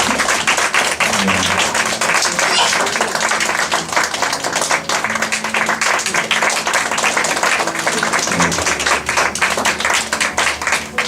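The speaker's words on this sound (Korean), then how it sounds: "나올 때까지 박수." A church congregation applauds steadily as members are called forward during a service, dense clapping continuing throughout with music and voices mixed underneath.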